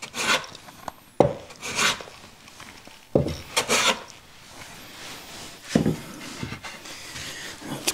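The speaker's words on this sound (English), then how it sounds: "Anytime you plane across like that, you're going to end up tearing these fibers on the back side. If I take a really shallow pass," A hand plane takes a shallow pass across a wooden board in a woodworking shop, making several scraping, shaving strokes of uneven length with short gaps between them, close by and moderately loud, with no speech.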